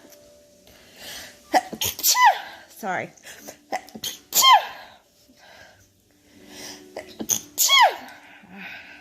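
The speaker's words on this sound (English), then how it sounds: "I hate sneezing." Three sharp, explosive sneezes spaced a couple of seconds apart, close and loud, with breaths between and a brief spoken word.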